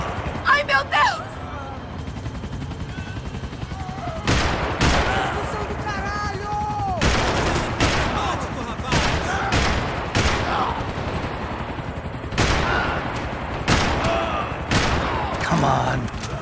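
Gunfire in the Max Payne 3 video game during a chase: loud, close bursts of rapid shots and volleys recur throughout, over engine noise, music and frantic shouting voices.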